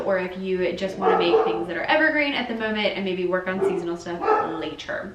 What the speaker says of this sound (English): Please excuse my dogs barking in the background